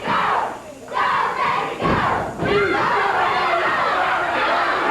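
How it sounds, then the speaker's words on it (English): A wrestling crowd at a CWA Memphis match chants and yells loudly, a dense, continuous roar of many voices close and full, with surges and brief dips. "They were chanting, "Go, David, go.""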